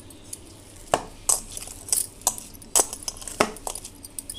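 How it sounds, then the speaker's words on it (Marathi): Raw banana mash being mixed with coriander in a bowl, with sparse clinks and knocks of a utensil against the dish and soft stirring scrapes between them, close and fairly quiet. "मी कोथिंबीर टाकून हे छान मिक्स करून घेणार आहे"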